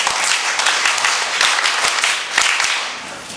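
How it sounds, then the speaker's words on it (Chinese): A hall audience at a 2009 primary-school storytelling contest on filial piety claps for the contestants, a loud, continuous wash of many hands with a few sharper accents, holding steady before easing slightly at the end. "我们给这些十多位的参赛者一个爱的掌声"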